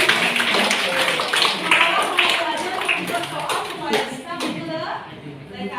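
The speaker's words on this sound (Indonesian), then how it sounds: "Tepuk tangan ini lagi." Students clap for a group in a classroom, scattered uneven hand claps mixed with voices talking throughout.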